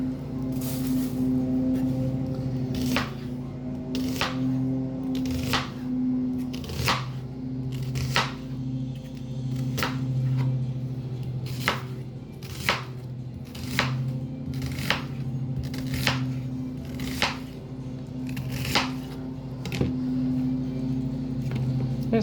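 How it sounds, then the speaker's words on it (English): An onion chopped into chunks on a board for bulgogi fried rice, with a regular series of sharp knife chops about once a second over a steady background hum, with no talking. "I'm just going to chop it into some chunks just to make it easier."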